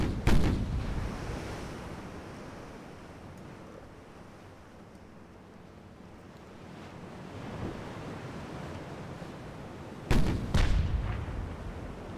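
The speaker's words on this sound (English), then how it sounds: "Yep, here it is. A couple of ranging shots." Battleship guns fire ranging shots in the naval game Ultimate Admiral: Dreadnoughts, with a deep boom at the start and another pair of heavy booms near the end, separated by a rumbling, surf-like ambient bed.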